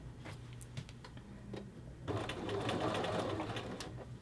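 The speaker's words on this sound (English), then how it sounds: "Take some stitches, back stitch." A sewing machine stitches a 5/8 inch seam on a man's shirt collar band, first with a few soft separate stitches and then a steady, louder run of fast close-up whirring stitching.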